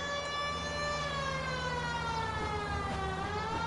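A police car siren in the game L.A. Noire wails with rising and falling sweeps, loud and steady over a low engine rumble, with no talking.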